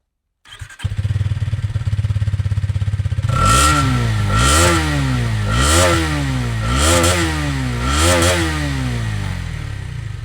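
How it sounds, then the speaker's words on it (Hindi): A Hero Xtreme 250R naked motorcycle starts, then idles and revs repeatedly, its 250 cc engine rising and falling in about five loud, close throttle blips with a steady rumble between them. "आपको इसका एग्जॉस्ट नोट सुनाता हूँ"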